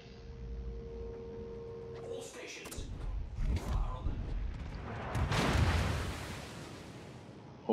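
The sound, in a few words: Vermont battleship's big guns firing, from a video game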